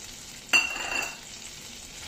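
Chopped garlic hits hot butter in a pan with a sudden sizzle that flares up, then settles into a soft, steady frying hiss that fades slightly, with a faint stir near the start.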